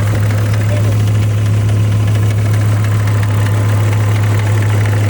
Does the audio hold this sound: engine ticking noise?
yes